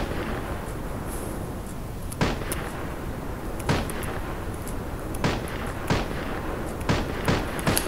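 Eight-round shotgun fired in a basic guns mod for a video game, sharp blasts spaced about a second apart over steady background hiss.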